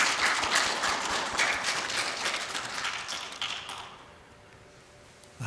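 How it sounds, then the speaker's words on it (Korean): A church congregation claps together in worship, a loud burst of many hands with crisp rapid slaps that thins out and fades to near silence in the last second or two. "우리 할렐루야, 우리 박수로 주님 앞에 영광 올려드리겠습니다."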